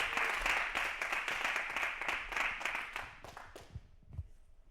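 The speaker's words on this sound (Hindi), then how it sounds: "एक बार जोरदार तालियों के साथ हम लोग स्वागत करेंगे" An audience at a stand-up comedy show claps to welcome a performer, dense applause that holds steady for several seconds, then thins out and fades to a few scattered claps at the end.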